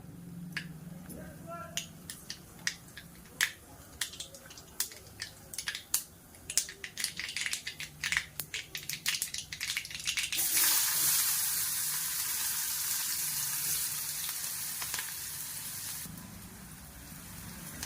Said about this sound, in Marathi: जिरे राई छान तडतडल्यानंतर मी आता त्याच्यात कांदा टाकते।